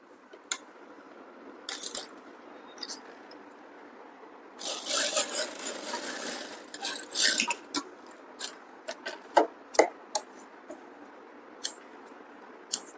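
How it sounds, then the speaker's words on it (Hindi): A domestic sewing machine runs a long line of large basting stitches along a piping strip for a princess-cut blouse, close and fairly quiet, with short bursts of stitching mixed with clicks and fabric handling; nobody talks. "फिर उसके बाद आपको इस तरह बिठा के यहाँ पर बड़े ताकों वाली सिलाई आपको लगा देनी है"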